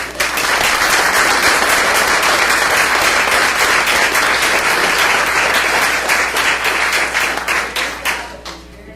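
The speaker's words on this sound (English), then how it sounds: "I give them a round of applause" Loud, dense applause from a crowd at a school district board meeting, honoring all-state choir students, with sustained clapping that carries on evenly before tapering off at the end.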